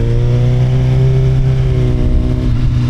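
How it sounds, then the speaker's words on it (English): A 2018 Suzuki GSX-R1000 sport bike with a G2 Throttle Tamer fitted accelerates smoothly, its engine note rising steadily in pitch, loud and close, with no one talking. "as I'm rolling into the throttle, it is so smooth"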